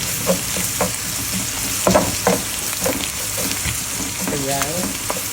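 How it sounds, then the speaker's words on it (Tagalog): Garlic fries in oil for a low-carb alamang dish, giving a steady sizzle broken by scraping stir strokes and small clinks. The sound is close and moderately loud. "Okay, pwede na natin ilagay si bawang."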